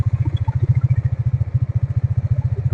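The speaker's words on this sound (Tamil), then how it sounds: "நம்மளுடைய கிளாசிக் 350 தான் இன்னைக்கு நம்மளுடைய ரைட்ல." A Royal Enfield Classic 350 single-cylinder engine thumps close by in a loud, steady, even rhythm of deep low pulses, idling without any voices.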